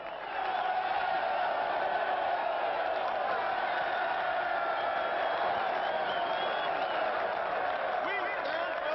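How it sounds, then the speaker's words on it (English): A dense crowd roars and yells in a sustained wall of voices at steady loudness, with scattered shouts and clapping mixed in throughout. "You give me a big yell, huh?"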